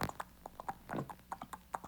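A single horse's hooves clip-clop in a quick galloping rhythm across cobblestones, a series of sharp, fairly close strikes with no talking.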